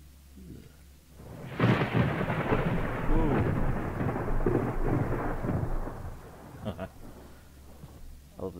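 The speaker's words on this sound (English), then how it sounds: "I love the sound of thunder" Thunder rolls and rumbles with rain in the horror video game The Crows Eye, a loud sustained crash that swells then fades over several seconds, with a few faint clicks afterward.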